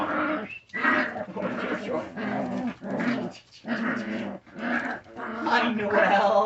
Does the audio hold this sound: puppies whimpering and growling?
yes